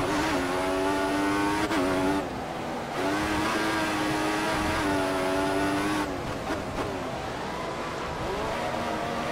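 Formula 1 cars race at the Australian Grand Prix in the F1 2014 video game: a loud, continuous high engine whine that climbs and drops through gear changes, with brief shifts in pitch and no talking.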